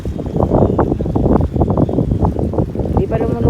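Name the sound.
wind blowing outdoors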